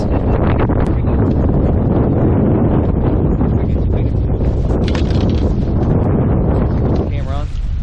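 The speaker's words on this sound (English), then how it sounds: "Just out here on the very windy side of the lake." Strong, extreme wind buffets the microphone on a lake during bass fishing, a loud continuous roar with gusty rumbling throughout.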